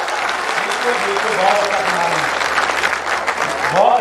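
Loud audience applause at a Hindi poetry recital during the Gorakhpur Mahotsav kavi sammelan, a crowd clapping vigorously and steadily with voices and some cheering mixed in throughout.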